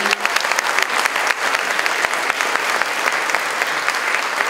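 Dense, steady applause from a large crowd at the launch of the 2015 Téléthon at Clairefontaine, loud and sustained throughout with many overlapping claps and no voices standing out.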